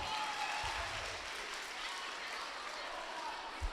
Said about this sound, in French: On s'applaudit une dernière fois.